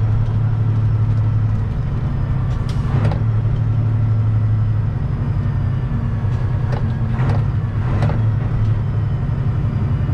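A truck with a 13-speed transmission downshifts, its steady low diesel drone filling the cab with a few brief rising engine and gear transients along the way, no talking.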